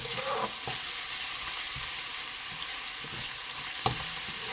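Ginger and garlic frying in hot oil in a pan, a dense continuous close sizzle with a couple of faint utensil taps and one brief sharp clink near the end.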